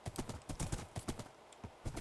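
Horse hooves in the Minecraft game clop in a quick, even trotting rhythm, close and fairly quiet, with no voices over them.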